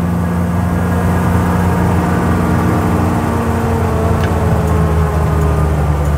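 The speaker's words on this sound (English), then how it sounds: "Yeah, those fixed engine fans do make a lot of noise." Steady low drone of a 1958 Ford Thames 400E bakery van engine with its fixed engine fans, heard close from inside the cab on a road, a constant heavy hum with whirring fan noise throughout.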